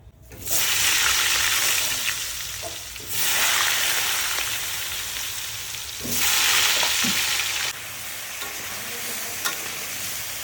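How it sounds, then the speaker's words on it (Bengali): Potatoes fry in hot oil with a loud, close sizzle that swells in three waves as they are tossed and stirred, the crackle continuing steadily between with no talking. "এবার আলুগুলো ভেজে নেব।"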